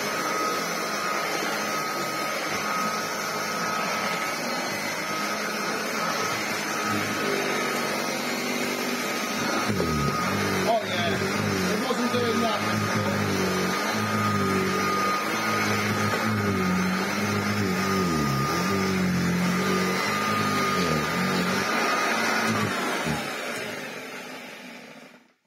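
A restored Hoover Junior 119 upright vacuum cleaner runs steadily on a rug, a loud continuous motor hum with brush whir that holds for the whole stretch before winding down at the end.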